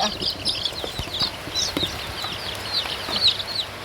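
Chicks cheep in rapid, high-pitched bursts close by on a poultry farm, with occasional low hen clucks and shuffling in the background.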